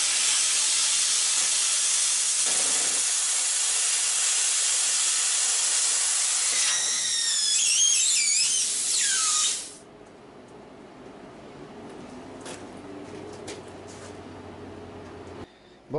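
A torch cutting a metal stair grille gives a loud, steady roaring hiss that cuts off abruptly, leaving a quieter background with faint clicks.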